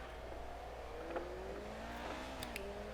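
A race car engine in the F1 2019 video game drones steadily with rising and falling pitch as it revs and shifts, continuous and fairly close, with no talking.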